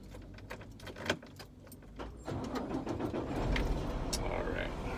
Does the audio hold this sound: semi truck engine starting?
yes